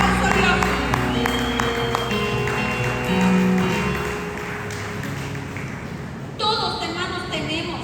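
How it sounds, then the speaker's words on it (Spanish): A church congregation at a Spanish-language sermon claps loudly and steadily for several seconds before the applause fades, after which a voice speaks. "Dale un fuerte aplauso a Dios."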